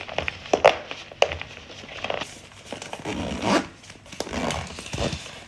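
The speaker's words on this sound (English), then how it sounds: "let's see if we can zip it" A packed bag being zipped shut, with several short rasping zipper pulls and bursts of rustling and crunching fabric close by, no speech.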